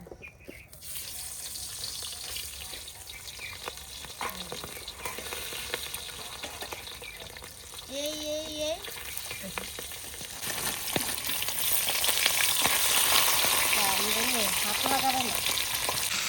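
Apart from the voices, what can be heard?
fish heads frying in eggplant-frying oil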